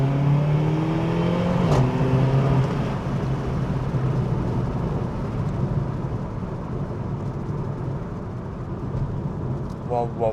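A Mercedes CLA 45 AMG engine in sport mode revs and pulls through a gear change early on, then settles into a steady drone of road and engine noise. A voice talks over it, and a brief burble is heard near the end.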